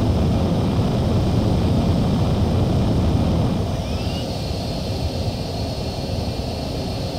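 A fighter jet on landing approach in Ace Combat 4 gives a loud, continuous engine roar and rushing wind that drops slightly partway through, with a faint whistling sweep and no voices.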